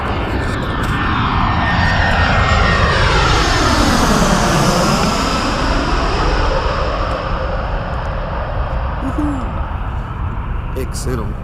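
A fixed-wing airplane approaches and roars past close by, its engine drone rising to a peak near the middle and fading away with a clear Doppler sweep, loud and continuous with no talk.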